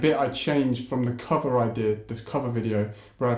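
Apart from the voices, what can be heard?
None of the usual background noises is heard.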